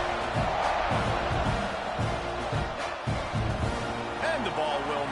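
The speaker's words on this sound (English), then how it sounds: "this crowd is buzzing after that last score" A football stadium crowd at a Texas A&M versus Texas game buzzes after a score, a dense, continuous roar from many voices under a commentator's steady play-by-play talk, with a brief whistle-like tone near the end.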